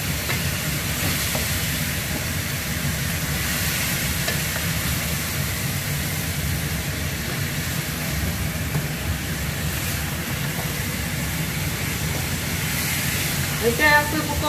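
Pork trotters sizzle in a hot wok after a splash of black vinegar, a steady crackling hiss with a few spatula scrapes and clinks toward the end.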